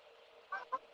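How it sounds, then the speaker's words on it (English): Geese fly over giving two quick nasal honks, faint and somewhat distant against a quiet background. "Oh, geese go."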